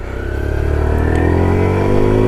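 Kawasaki Z125 Pro motorcycle on the move, its small engine revving and climbing steadily in pitch, loud and close with no talk.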